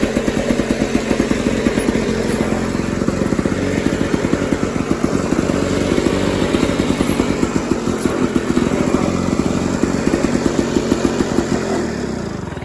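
A Lawn-Boy lawn mower engine runs roughly after carburetor work, a steady loud close chugging and clattering drone with an uneven pulsing rhythm, heard alone throughout.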